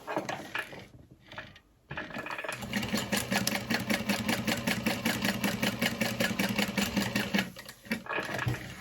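An electric sewing machine stitches a fabric wallet, starting after a brief pause and then running in a steady, fast, rhythmic hum of the needle, close and continuous.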